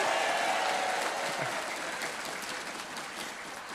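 Audience applause at an Atomy recognition event, a dense steady patter of many hands that holds loud and close throughout, then eases slightly toward the end with no talking over it.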